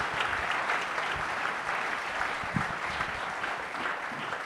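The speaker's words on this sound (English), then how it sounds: "Give them a big round of applause for that's fantastic." A live audience at a Christmas special gives a steady, dense round of applause, a broad wash of many hands clapping throughout with no voices on top.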